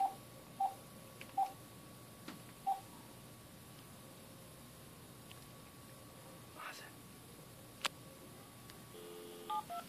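A telephone number is dialed as a series of short touch-tone beeps spaced irregularly across the first few seconds, faint against a quiet hiss, followed by a few softer clicks and tones near the end.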